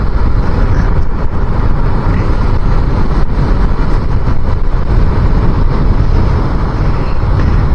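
Strong wind roars against a helmet or microphone while riding a motorcycle on a cool, grey, very windy day in the UK, a loud, continuous low-heavy rush with engine drone beneath, no talk.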